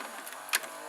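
A Panasonic NV-SD300 multi-system VCR with a K mechanism ejecting a VHS tape: a soft mechanical whir, then one short clunk as the tape comes out, close and fairly quiet.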